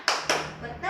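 Two quick, sharp hand claps close by, followed by a brief third starting at the end.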